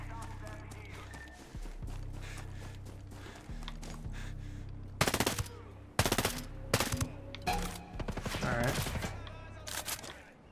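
Gunshots in the video game Ghost Recon Breakpoint, with several sharp, loud cracks in quick clusters midway through while someone talks over a low background.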